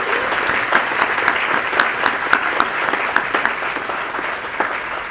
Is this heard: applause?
yes